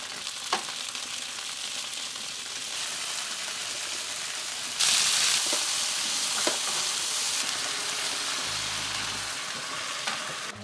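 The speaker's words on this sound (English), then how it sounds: "looks like big bro here is cooking some meat" Meat sizzles and fries steadily in a pan during a home lunch in Hà Giang, Vietnam, a constant crackling hiss with occasional stirring clatter and no talk over it.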